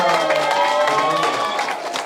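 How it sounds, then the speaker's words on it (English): Crowd at a graduation ceremony applauding and cheering, a dense steady wash of clapping with voices mixed in, loud and sustained before tapering slightly at the end. "can you guys all just give a round of applause"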